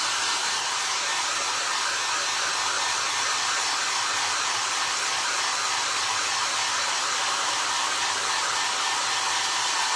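A hair dryer blows steadily and loudly throughout, drying paper mache, a constant broadband whoosh with no voices.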